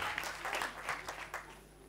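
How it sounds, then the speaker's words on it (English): Brief applause from a real estate investing workshop audience, faint, uneven patters of clapping heard from a distance for a couple of seconds. "Ladies and gentlemen, please give them a big round of applause."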